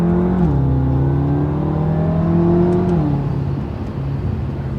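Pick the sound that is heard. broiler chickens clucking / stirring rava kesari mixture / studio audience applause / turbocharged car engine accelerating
turbocharged car engine accelerating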